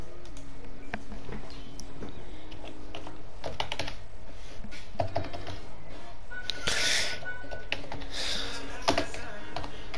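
Rapid computer-keyboard typing during a Fortnite gaming session, a steady run of close, crisp key clicks lasting throughout, with a brief louder burst of other noise partway through and no speech.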